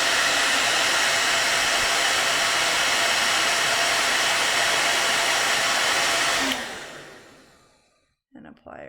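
A hair dryer blows with a loud, steady whoosh for several seconds, melting crayon onto paper, then switches off and winds down, followed by a soft breath.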